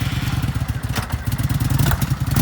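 A used 2017 Kawasaki Vulcan 900 Custom V-twin cruiser runs close by with a loud, pulsing low thump, its uneven loping beat steady under occasional faint clatter.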